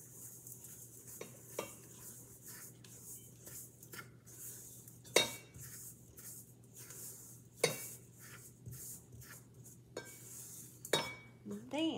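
Lightly beaten eggs mixed around in a bowl for a low carb coconut and almond flour deep dish pizza, heard as soft stirring with a few sharp clinks of utensil against the bowl, close and fairly quiet.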